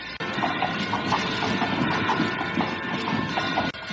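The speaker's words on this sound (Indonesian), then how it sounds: "Kereta kuda Mak Rompang sudah semakin dekat" Hooves clop in a steady rhythm as a horse-drawn carriage draws nearer, with a rolling rumble of wheels beneath and a brief dropout near the start and again near the end.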